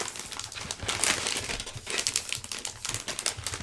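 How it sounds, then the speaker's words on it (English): Paper for a card topper is folded over and pressed flat, making close crinkling and rustling that rises and falls over a few seconds with no talking. "So now I'm going to take this and I'm going to place it down, trying to get it nice and straight. And then I'll fold that over."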